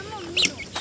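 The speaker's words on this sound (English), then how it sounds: "And then here's the chicken, the little chicks." A chicken clucks with small peeping chicks around it on a farm during feeding, short bright calls in a quick burst over faint background noise, with a voice talking softly underneath.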